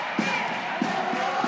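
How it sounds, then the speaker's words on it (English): A volleyball crowd cheers and shouts as it hypes up a server before a jump spin serve, a dense roar with rhythmic rising bursts that sound like chanting or stamping. "So the crowd is hyping him up."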